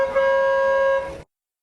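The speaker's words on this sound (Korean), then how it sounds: "기적 소리를 울리며 도착한 미니어처 기관차에" A miniature steam locomotive arriving at a model railway opening ceremony in Harcourt, Australia, sounds one steady, loud tonal whistle blast lasting about a second before cutting off abruptly.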